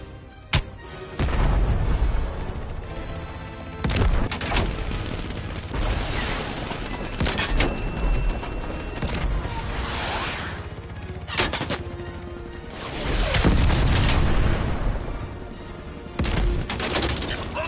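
Gunfire and artillery fire in a PS4 war video game, with loud repeated booms and bursts of shots close by, rattling volleys spread across a sustained battle din.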